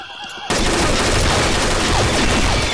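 Dense, loud gunfire in the online shooter Combat Arms, a continuous fusillade of overlapping shots and bursts that begins abruptly and keeps going, with faint voices underneath.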